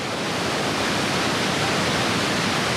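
The Rhine Falls at Schaffhausen, Switzerland, roar steadily, a dense unbroken rush of falling water that fills the whole clip at even loudness.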